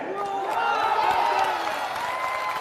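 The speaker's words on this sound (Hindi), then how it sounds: "अभी ताली नहीं बजाना है।" Crowd applause at a Jan Suraaj political rally on a large open ground, a dense sustained wash of clapping and cheering from a big gathering, with voices mixed into the noise.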